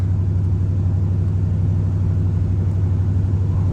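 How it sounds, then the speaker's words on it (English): A Ford Raptor R engine with its stock intake box gives a steady, deep rumble that holds at an even level throughout, with a smooth low drone and no clear rise in pitch. "All right, here's a rev"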